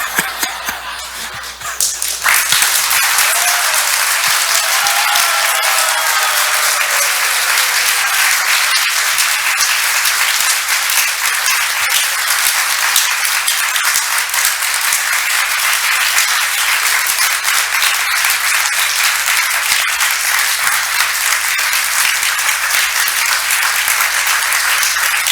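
Audience at a Sunday feast talk breaking into loud, sustained applause that swells after a brief pause and stays dense and even throughout, a full room of hands clapping together.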